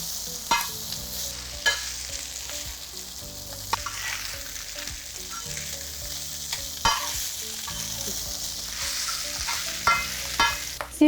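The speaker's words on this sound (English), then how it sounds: "just put the mutton pieces and fry them in the ghee. So now fry the mutton for at least 5 to 6 minutes." Mutton pieces fry in ghee on a tawa for a crispy Indian mutton dish, giving a continuous close sizzle. Regular scraping and stirring strokes and sharp utensil taps recur throughout, with no talking.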